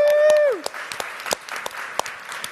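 Audience applause at a teen technology conference in Silicon Valley, a burst of clapping after a tonal chime at the start, settling into scattered, thinning claps over a couple of seconds.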